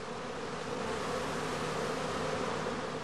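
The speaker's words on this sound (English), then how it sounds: "The experienced beekeeper can tell from their behavior at the entrance whether the bees are about" Bees hum in a dense, steady drone at the flight entrance of a straw skep as a colony prepares to swarm, a close, continuous buzzing with no voices.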